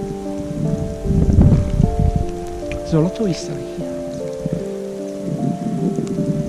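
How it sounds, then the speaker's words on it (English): Rain falls steadily through mountain woodland on Monte Semprevisa, Italy, a soft wash beneath a voice talking nearby, with a faint rumble in the background. "Now there's also some rain."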